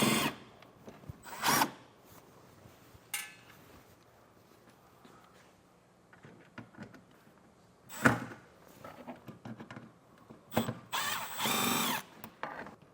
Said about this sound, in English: We have 2 Phillips screws to remove